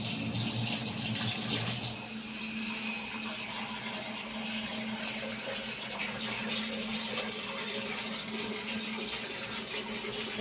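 Tap water gushes steadily into a basin while leaves are rinsed, a constant close wash of running water that lasts throughout, with a slight change in tone early on.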